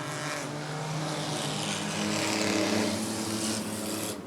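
Race cars in an Original Sixers heat at Rockford Speedway roar steadily as the field takes the green flag, a dense wash of engine noise holding loud and continuous with rising intensity and no talk.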